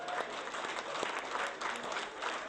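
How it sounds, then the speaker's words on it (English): A seated audience gives a round of applause for a performer at a comedy stage show, dense, even clapping that holds steady from start to finish with no talking over it. "Let's give a big round of applause to him."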